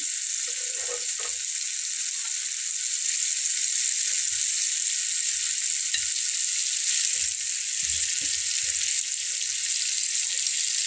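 Radish pieces frying in a pan for a winter vegetable curry, a continuous close sizzle with occasional soft stirring knocks and scrapes, no talking.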